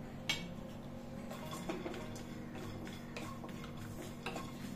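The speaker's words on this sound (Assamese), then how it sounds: "গোটেইখিনি ড্ৰাই ফ্ৰুটছ ভালদৰে ভাজি লম" Almonds, cashews, raisins and pistachios are fried in a pan at home, with scattered clinks and scrapes of a utensil against the pan over a low, steady background.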